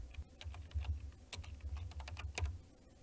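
Computer keyboard keys tapped in a quick, uneven run of close, crisp clicks while text is typed into a chart, with no voices.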